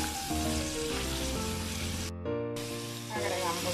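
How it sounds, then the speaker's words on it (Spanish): Chopped onion frying in hot oil in a pan, a steady close sizzle hissing throughout, briefly cut off midway, with background music playing beneath. "Ponemos aceite en un sartén. Vaciamos la cebolla."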